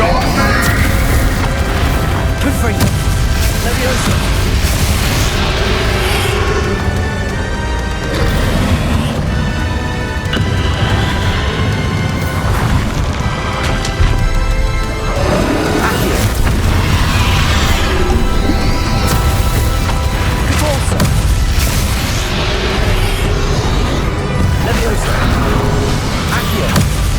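Confringo spell explosions during the final boss fight in the video game Hogwarts Legacy, repeated booms and crashes within a dense, loud battle mix with voices speaking throughout.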